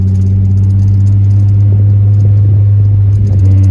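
A Nissan 350Z with a manual gearbox gives a loud, steady low engine drone with a faint rattle and no clear rise or fall in pitch.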